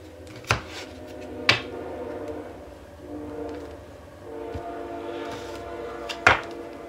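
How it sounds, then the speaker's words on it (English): A train passes at a distance with a low rumble that swells and fades, plus several sharp clanks and bangs spread across about seven seconds. "There's a train for y'all."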